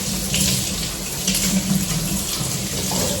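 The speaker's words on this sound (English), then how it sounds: "Then you want to run some cold water over the top." Cold tap water runs steadily over fruit in a strainer at a sink, a continuous close splashing hiss lasting a few seconds with no voices.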